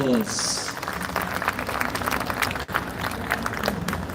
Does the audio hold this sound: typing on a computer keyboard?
no